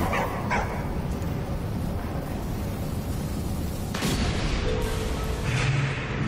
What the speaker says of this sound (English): stop barking at the fire, please.